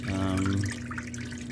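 Water splashes and trickles steadily down into the overflow section of a free 50-gallon aquarium, a close, continuous watery rush with a low hum underneath.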